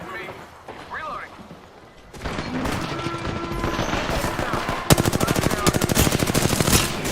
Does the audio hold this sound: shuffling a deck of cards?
no